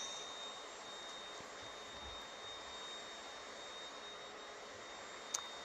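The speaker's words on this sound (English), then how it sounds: "Ignore my mom vacuuming." A household vacuum cleaner runs steadily in another room, a faint, even roaring whoosh held at constant level throughout, with no voices over it.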